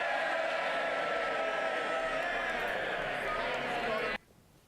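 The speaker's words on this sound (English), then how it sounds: "A loud cheer from the Tory benches in Westminster there" A loud, sustained cheer rises from the Tory benches in the Westminster House of Commons, a dense roar of many voices that cuts off abruptly near the end, leaving faint background noise.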